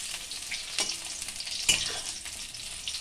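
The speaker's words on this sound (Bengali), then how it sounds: "একটা গোটা তেজপাতা একটা শুকনো লঙ্কা আর এলাচ এটা দিয়ে আমি আবার পটলগুলোকে একটু নেড়ে চেড়ে নিচ্ছি" Pointed gourd frying with a whole bay leaf, a dried chili and cardamom sizzles steadily as it is stirred, with two distinct scraping knocks of the spatula against the pan.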